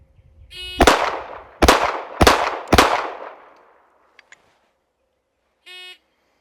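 Four sharp, loud M18 pistol shots crack out at targets in quick succession, each with a ringing decay, framed by short electronic timer beeps before and after.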